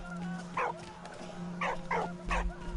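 A dog barks in the WWI game Valiant Hearts, four short sharp barks spaced irregularly over a steady electronic hum, moderately close and clear with no talking.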